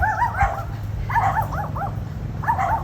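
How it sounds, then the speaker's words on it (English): Several happy dogs bark and yip in quick, excited bursts close by, with whimpering yelps between the barks against a steady low background hum. "Those are some happy dogs."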